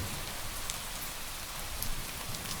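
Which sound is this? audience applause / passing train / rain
rain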